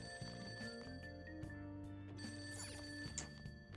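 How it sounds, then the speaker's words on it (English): A telephone bell rings downstairs in Persona 5, faintly in quick trills over game music, distant and quiet beneath the steady backing tune. "the phone's ringing downstairs."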